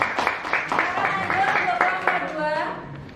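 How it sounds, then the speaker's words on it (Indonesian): Brief burst of classroom applause for a presenting student group, several people clapping in quick uneven patter that fades after about three seconds, with a voice speaking over it. "Kita beri aplaus untuk kelompok"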